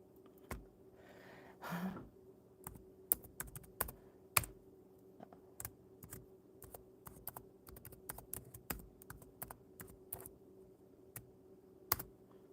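Someone types on a computer keyboard during a live stream, the keys clicking in scattered, irregular bursts, close and fairly quiet.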